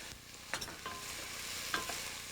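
Garlic being stirred in a hot pot hisses with a soft, steady sizzle, broken by a couple of light scraping strokes of the spoon, close and fairly quiet, with no talking.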